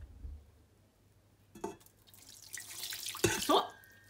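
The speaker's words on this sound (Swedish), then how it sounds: "Jag tar lite degspad och häller i" Warm dough liquid is poured in a short trickle into a bowl, a faint splash followed by a brief louder gush of water, close and quiet with no talking.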